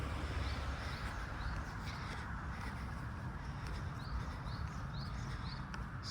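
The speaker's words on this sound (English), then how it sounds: "You can hear the birds, nice and green." Faint birds chirping now and then over a steady, rushing outdoor background noise.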